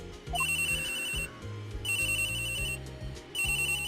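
In the Phoenix Wright: Ace Attorney video game, an office phone rings in repeated electronic bursts of a looping melodic ringtone, separated by short pauses over a low background tune.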